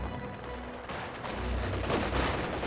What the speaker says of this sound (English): They're just trading gunfire with the Soviets there.